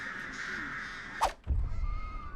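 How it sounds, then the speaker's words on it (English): Crows caw in a video game, several harsh calls over a steady tonal backdrop, followed by a sharp whoosh and then a low rumbling thud. "Oh my god, TJ, I'm repelling her birds."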